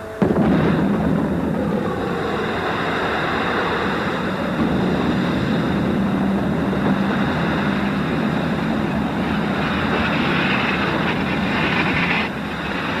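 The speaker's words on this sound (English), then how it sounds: "Just an incredible explosion from somewhere way over there" A distant explosion from some way off lets out a long, deep rumble that rolls on for the whole stretch, a broad, steady low roar with no talk over it.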